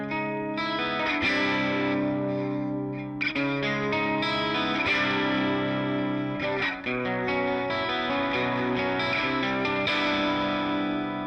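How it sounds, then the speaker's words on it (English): A bright, thin-sounding electric guitar through a piezo pickup with no preamp plays continuous chords and notes, trebly and somewhat harsh, with no voices. "it's so bright and it's so tin can sounding"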